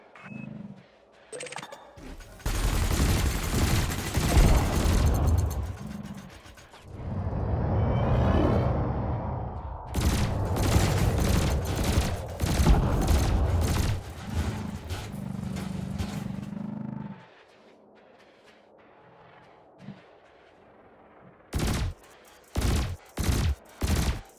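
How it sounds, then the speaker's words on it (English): Ship weapons in the video game Elite: Dangerous, long bursts of heavy booming fire and rumbling blasts, then a quieter stretch followed by several short sharp shots near the end. "Meanwhile, your laser will fire until the capacitor is depleted, at which point it will need to recharge."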